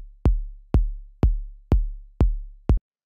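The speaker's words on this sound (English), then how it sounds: "So the first drum that I have here is the kick" Six evenly spaced hits from a soft, punchy 808-style electronic kick drum, each one a deep, booming thump that decays quickly, played alone and up close.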